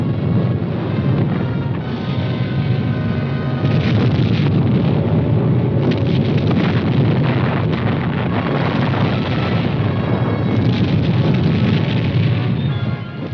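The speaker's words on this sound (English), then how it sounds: "the supporting elements lay down a curtain of non-atomic fire" A curtain of non-atomic artillery fire lays down a barrage in support of an armored team, heard as a dense, continuous rumbling roar of overlapping blasts. The sound is loud and muffled, with no talk.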